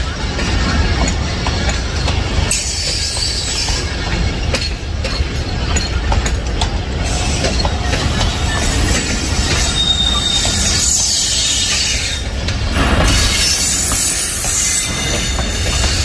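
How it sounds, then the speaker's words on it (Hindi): The Rahman Baba passenger train, bound from Peshawar to Karachi, rolls loudly and close through Attock railway station, its wheels rumbling and clacking steadily with bursts of high squealing, while faint voices sit under the din. "रहमान बाबा पेशावर से कराची जाने के लिए अटकपुर रेलवे स्टेशन पे"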